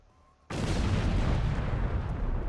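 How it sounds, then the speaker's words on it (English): A warp core detonation in a Star Trek game, striking with an abrupt deep boom after a quiet moment, then a sustained loud rumbling roar that holds for two seconds. "something just did explode"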